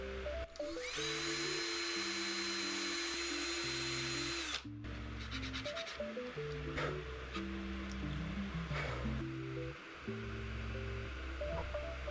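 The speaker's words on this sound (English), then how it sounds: "Gotta drill out a new pilot hole for the front line tie." A power drill whirs steadily for several seconds, drilling a pilot hole in a small crankbait fishing lure, pausing briefly and restarting, its motor hum broken by short grinding bursts; no voices.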